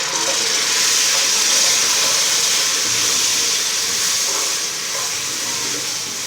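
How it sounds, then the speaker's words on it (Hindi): A splash of water hits chilies and spices frying in a pan for kadhi pakora, producing a loud, continuous hissing sizzle close by that eases slightly toward the end. "अब इसमें मैं पानी का छींटा और लगाऊंगी थोड़ा सा।"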